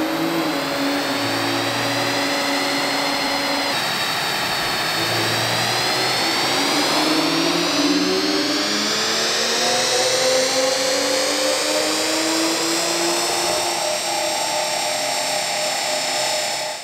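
A tuned Toyota GR Supra engine with a big stock-frame turbo, running E50 fuel, stock gearbox and stock exhaust, roars loudly on a dynamometer, climbing steadily in pitch under load, droning continuously with a whining, turbine-like edge and no pauses.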